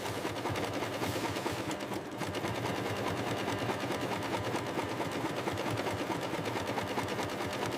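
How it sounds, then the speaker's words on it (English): An industrial sewing machine micro-stitching reinforced seams on a factory line runs in a steady, dense mechanical whir, loud and continuous throughout with only a brief dip partway. "Micro-stitching ensures seam reinforcement, preventing structural failure under load."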